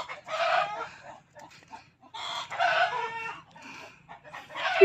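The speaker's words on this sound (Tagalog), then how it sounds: "Ayan mga manok nga." Chickens cluck in uneven bursts while a rooster crows nearby, a busy farmyard chorus with no one speaking.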